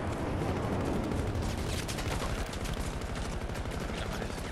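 Dense, loud gunfire in the video game Battlefield 2042, rapid automatic bursts and overlapping shots that go on without a break, with heavy booming in the low end.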